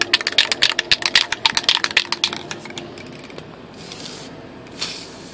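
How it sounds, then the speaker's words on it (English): An airbrush or spray can sputters in rapid hissing bursts while test-spraying Airbus A380 model kit parts, then settles into a softer steady hiss, close and fairly loud. "We'll do a little test spray here."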